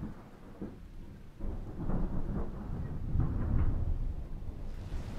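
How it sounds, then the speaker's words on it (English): Thunderstorm ambience from the Flowscape game: a low, continuous rumble of thunder with rain hiss and wind, swelling louder after the first second and holding steady with no voices. "Thunderstorm."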